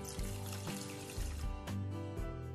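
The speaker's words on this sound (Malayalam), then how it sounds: "പിന്നീട് ഇതിലേക്ക് കൃത്യം 1/2 കപ്പ് വെള്ളം ഒഴിക്കുക." Half a cup of water poured into two cups of sugar in a pan on a stove, a steady close trickle and splash lasting a few seconds under a low rhythmic background hum.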